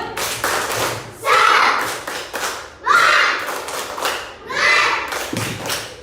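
A primary-school class claps together in a rhythmic spirit-clap routine, loud bursts of unison claps in repeating patterns with short pauses between, while children chant along.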